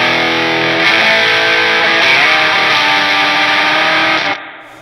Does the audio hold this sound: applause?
no